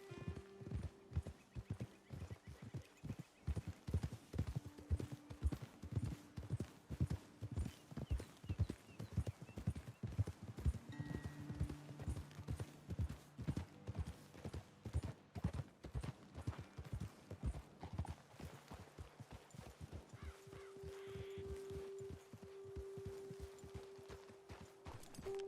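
Horses clip-clop along at a walk in Red Dead Redemption 2, with steady hoofbeats close by, an occasional whinny and faint game ambience beneath.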